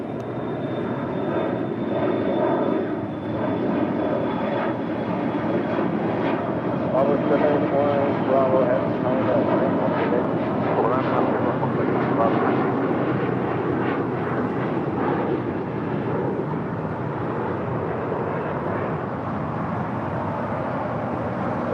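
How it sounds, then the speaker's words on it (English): An Airbus A330 airliner, Avianca flight to San Salvador, departs from runway 25 right, its engines a steady broad roar throughout, with a thin high whine early on and people talking underneath. "Looks like we're going to get this A330 Southside departure"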